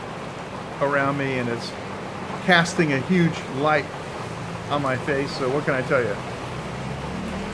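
Steady rain falls outside a coffee shop in Taiwan at night, a constant broadband hiss running under a man's close, continuous talking throughout.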